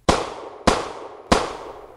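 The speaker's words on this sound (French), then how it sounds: "Elle retourne l'arme, vise et tire 3 coups de feu sur Pierre" Three gunshots fired in quick succession, evenly spaced sharp loud bangs, each with a short decaying tail, close and alone.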